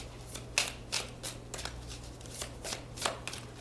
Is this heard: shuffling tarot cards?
yes